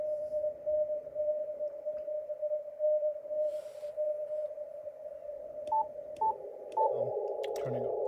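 A steady radio tone hums through static hiss, with brief beeping keyed pulses near the end and a louder burst of noisy signal.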